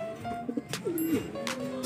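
Racing pigeons coo in a few soft, throaty phrases close by, a low rolling call repeated briefly against a quiet outdoor background.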